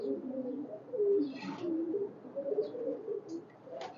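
Red-necked pigeons coo softly and repeatedly in a loft, with low rolling calls continuing throughout and a few faint higher chirps and rustles.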